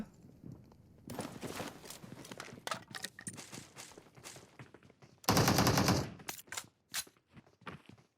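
Gunfire in PUBG Mobile: bursts of rapid shots scattered through the clip, with one loud sustained automatic volley near the end, no talk.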